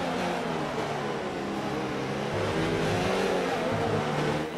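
A Honda-engined Formula 1 car races in F1 2019, its engine a steady, loud, high-pitched drone with shifting pitch throughout, with the sound of other cars blending in.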